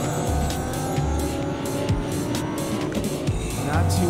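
Car driving down a road at night in Fortnite Chapter 2 Season 3, a steady engine drone with tire noise running continuously throughout, close and fairly loud, with no talk.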